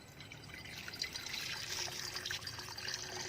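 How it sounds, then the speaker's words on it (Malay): Water poured into a glass jar bought from a shop, a close trickling and splashing with bright ringing tones that rise slightly as the jar fills, no talking over it. "Lepas tu masukkan air."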